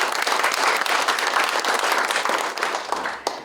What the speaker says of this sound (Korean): 지금부터 2025 충남 농공단지 도약의 날 기념식 행사를 여러분들의 큰 박수와 함께 시작해 보도록 하겠습니다